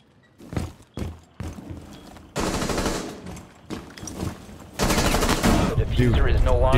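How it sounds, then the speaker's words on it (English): Gunfire in the Fortnite video game: scattered single shots at first, then sustained rapid bursts that grow louder and denser, with game effects layered in the background. "Dude, did you shoot me again, Clix?"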